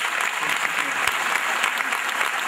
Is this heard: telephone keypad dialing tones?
no